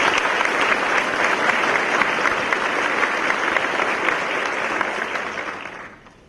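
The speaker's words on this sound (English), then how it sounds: "let's give our graduating student athletes one more round of applause" Sustained applause from a large crowd at a college honors convocation, steady and loud for several seconds before fading out at the end.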